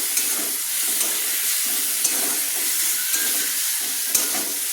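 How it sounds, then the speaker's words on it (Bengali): Fried peanuts stirred into a cooked banana flower mixture in a pan, a steady close sizzle and hiss with soft scraping stirs repeating through, no voices. "আমি যে চীনা বাদামগুলো ভেজে রেখেছিলাম, খোসা ছাড়িয়েছিলাম, দিয়ে দিলাম। দিয়ে নেড়ে নিলাম।"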